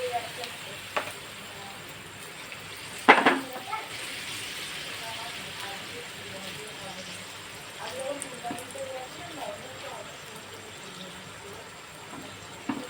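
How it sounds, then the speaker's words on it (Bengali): Gola ruti batter poured into hot oil in a pan, a steady sizzling hiss with a brief sharp clatter near the start, while a person talks faintly over the frying. "দেখুন তেলটা আমার গরম হয়ে এসছে। এবার আমি এই যে গোলা রুটিটা যে গুলে রেখেছিলাম ওইটা আমি দিয়ে দেবো।"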